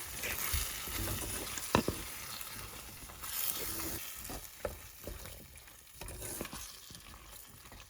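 Prawns sizzle and fry in a pan of prawn and mango curry while being stirred in, a steady hiss broken by scraping and clinking from the spoon.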